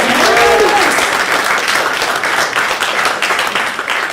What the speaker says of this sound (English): Round of applause because he's done a whole lot to make sure Wordslinger's way is going well